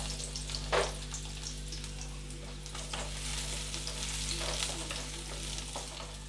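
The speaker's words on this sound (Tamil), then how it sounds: "அதில் நம்ம சின்ன வெங்காயத்தை வதக்கிப்போம்." Small onions sauté in sesame oil, a steady low sizzle with scattered stirring scrapes and one brief louder clatter early on, no voices.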